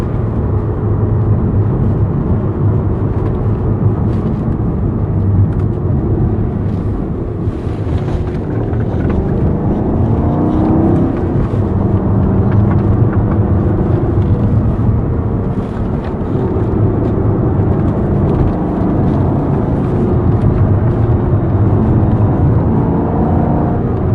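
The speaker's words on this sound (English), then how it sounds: "hey, I can hear that car" Jaguar XK engine running with a steady low rumble and drone throughout, loud and close, with wind noise over the microphone and no talking.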